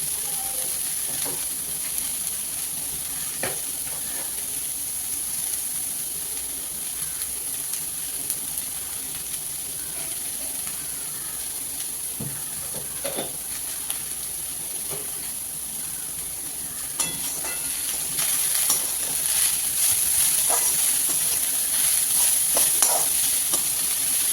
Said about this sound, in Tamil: இப்போ பார்த்தீங்கன்னா நம்ம கேபேஜ் நல்லாவே வதங்கியாச்சு